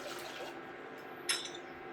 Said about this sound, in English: we're adding in water